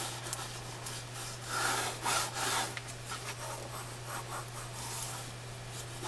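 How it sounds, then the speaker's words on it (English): Paper is burnished by hand in a series of soft, rhythmic rubbing strokes, close and moderately quiet over a faint steady hum, with no talk. "I always burnish it from the wrong side"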